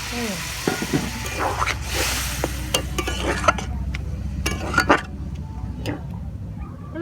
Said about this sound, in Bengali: একদমই অল্প করেই জল দিয়ে দেব